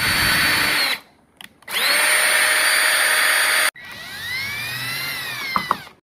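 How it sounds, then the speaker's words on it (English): A power drill bores into a door jamb for latch screws, two sustained high-pitched whirring runs separated by a short pause, then a winding-down whine, loud and close, with no talk. "we're going to make our marks, drill it, and then secure it with our screws"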